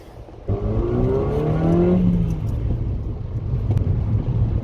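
A Mazda 2 with a short ram air intake accelerates hard in second gear, the engine note climbing steadily and loudly, heard close from inside the car with no talking.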